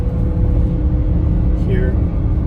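2019 Jaguar F-Pace SVR on a winding road, a steady loud low engine rumble and road noise from inside the cabin, with a brief higher tone partway through.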